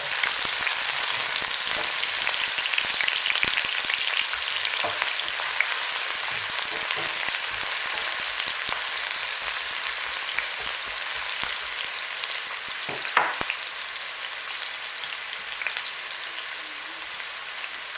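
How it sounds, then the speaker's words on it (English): Onions fry in oil in a pan for fried cabbage, giving a soft, continuous rain-like sizzle with a few faint clicks and scrapes, fairly quiet and alone. "fry your onions. Stir."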